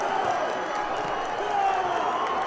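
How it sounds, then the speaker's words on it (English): Crowd noise at a high school boys basketball game, Eagan versus Eastview, a dense continuous roar of cheering and clapping from the stands, heard with a commentator talking over it. "Crowd here, starting to make some noise."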